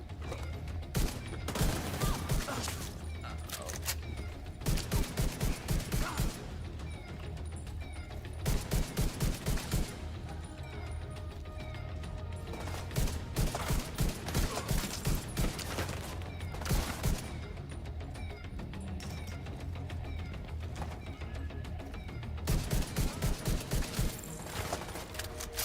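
Shotgun blasts and rocket launcher fire ring out in a first-person shooter video game, coming in repeated loud bursts of rapid shots separated by short pauses, with mechanical clatter between volleys.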